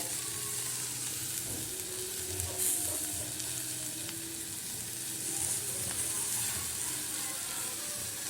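Prawn bharta stirred in a pan with chopped coriander, a steady close sizzle and scraping that runs continuously without pause.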